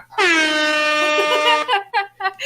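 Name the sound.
air horn blast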